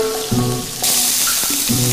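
Meat fries in oil in a frying pan, a loud, steady sizzle with crackling bursts, over which a tonal hum comes and goes.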